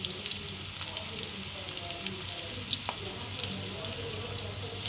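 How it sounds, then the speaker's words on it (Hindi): Dal fries in a pan for a dal chawal dish, giving a steady close sizzle with a few scattered pops and crackles, no voices over it. "अच्छी तरह से हम इसको फ्राई करेंगे"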